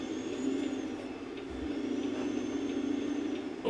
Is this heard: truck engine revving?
yes